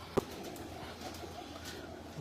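Pigeons coo softly on a rooftop in Lahore, with a sharp click near the start and low, murmuring calls over a quiet outdoor background.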